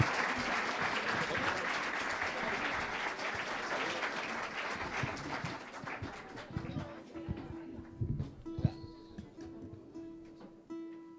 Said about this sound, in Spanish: Qué bonitos aplausos, de verdad.